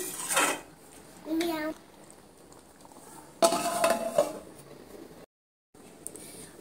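Omelette pieces being stirred into curry gravy in a pan, with a few short scraping clatters of a utensil against the metal, separated by quiet gaps.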